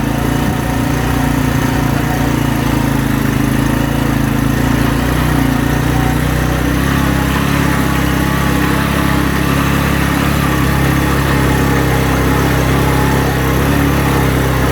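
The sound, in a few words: motorcycle engine running at high altitude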